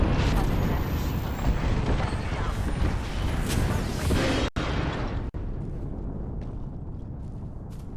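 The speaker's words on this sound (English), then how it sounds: "Calling the airstrike." Airstrike explosions in Apex Legends, a heavy, sustained rumbling roar of blasts that fills the first half, then cuts off abruptly and leaves quieter game noise and voices behind.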